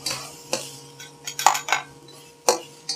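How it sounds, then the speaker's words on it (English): Onions being stir fried in a wok, with scattered clinks and scrapes of a utensil against the metal over a faint steady hum, close and intermittent. "I'm going to stir fry the onions."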